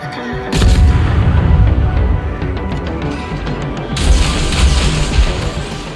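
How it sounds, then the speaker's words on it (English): Torpedo launch from a German Tier 4 tech-tree destroyer, IGN V-170, in a naval battle game: loud booming bursts and heavy crashing thumps, with a second surge of blasts partway through, close and dominant, no talking. "Those torpedoes I've just launched"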